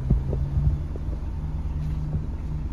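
A 2021 Kia Sportage S engine idles with its air conditioning running, a low steady hum and rumble with faint throbbing and no talk.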